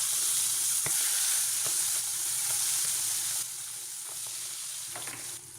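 Steady, loud sizzling and crackling of pieces of cue fish frying in hot oil, with occasional pops and faint clinks, no voices.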